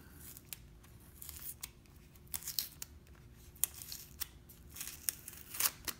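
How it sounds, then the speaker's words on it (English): Packing tape being picked at and pulled loose from a shipping tube, faint close-up sharp ticks and short tearing rips scattered irregularly over a quiet background. "Try to get this tape pulled loose here."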